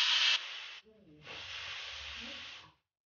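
A pressure cooker whistle hisses loudly in a steady burst of steam while cooking broccoli soup, pauses briefly, then hisses again for over a second before cutting off.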